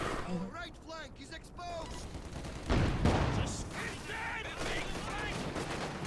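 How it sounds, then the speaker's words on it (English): Incendiary artillery barrage in a video game landing on gun teams: a burst of heavy impacts and crackling fire, loud and close, with a commentator talking over it. "incendiary artillery barrage right on top of these packs"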